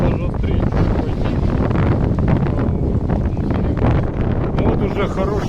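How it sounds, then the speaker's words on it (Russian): Strong wind roars and buffets the microphone continuously, with a rushing, turbulent texture, on a sailboat at sea between Tenerife and Gran Canaria. "Вот уже хороший свежий ветер."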